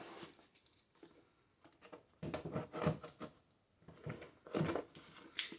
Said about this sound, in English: Using my handy ceramic cutter.